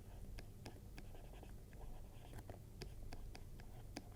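A marker or chalk scratching across a board during a physics lesson on prisms, in short scraping strokes and taps at a steady rhythm, close and quiet against faint room noise, with no clear talk.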